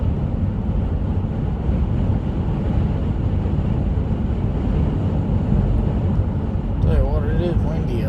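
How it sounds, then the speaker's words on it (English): Steady, broad wind roar buffeting the microphone throughout, with a faint voice briefly appearing near the end. "It is windy out."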